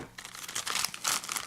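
A plastic packet holding long servo extension cables for RC airplanes is tugged open, giving a close run of crisp crinkles and crackles in a few uneven bursts, with no talk over it.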